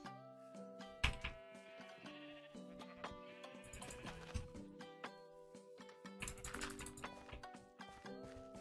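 Minecraft sheep bleat several times amid busy game sounds, with clicks, footsteps and clattering effects layered over the short, wavering calls.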